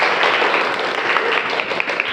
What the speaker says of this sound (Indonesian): Beri tepuk tangan untuk Safira.